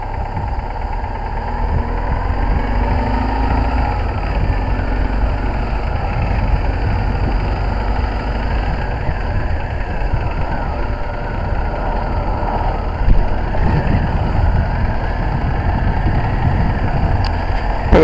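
A BMW R1200C motorcycle idling with a clattering clutch bearing, a steady loud low engine rumble with a rattly texture throughout, no talking.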